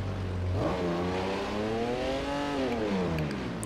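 A Honda VTEC engine in Forza Horizon revs up with a rising, whining pitch, holds high, then eases slightly, loud and continuous like a game sound effect.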